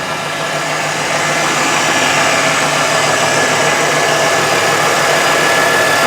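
A 1988 Lincoln Town Car engine idling on its first start, a steady, continuous rumble with a faint knocking undertone, loud and close throughout.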